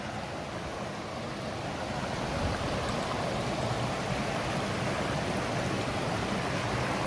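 The Beli Iskar river flows in a steady, dense wash of water, continuous and fairly close, with no voices.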